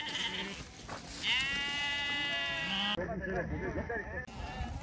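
Sheep being fed baled hay on barren land bleat loudly and close by, several overlapping wavering calls, with people talking in the background.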